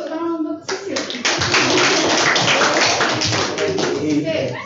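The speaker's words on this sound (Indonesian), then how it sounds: "Jadi tepuk tangan untuk Sisil" A classroom of students claps for a classmate during a math micro-teaching lesson. The dense, steady clapping runs for several seconds after a brief stretch of voices and fades near the end.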